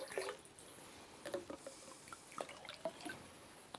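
Ocean water is poured and then drips into a mix with brown rice vinegar, sounding as faint scattered drips and small splashes close by, with no talk.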